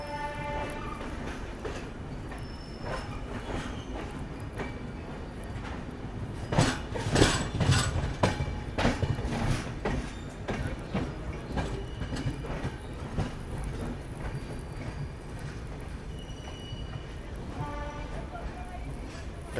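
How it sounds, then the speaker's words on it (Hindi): A passenger train rolls into a station on the Kolkata–Puri line with a rumbling, clattering approach that peaks midway through, heard near and steady while people talk nearby. "पैसेंजर ट्रेन लग रही है कोई।"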